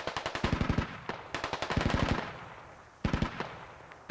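Rapid automatic gunfire from the video game Squad rattles in loud, close bursts of quick shots, separated by short pauses, with echoing decay between volleys.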